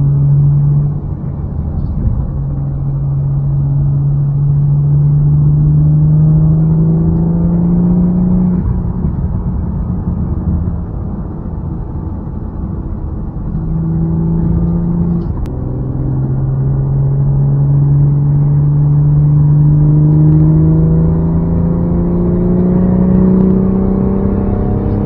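A BMW 440 fitted with the M Performance Power and Sound Kit exhaust revs steadily, its low engine drone rising and falling in pitch across several long, loud pulls, with no voices over it.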